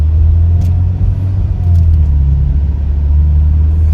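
A 2015 Maserati Ghibli S Q4 AWD sedan with a 3.0-liter twin-turbo V6 cruises along, its low engine drone and road rumble steady and close from inside the cabin, without a break.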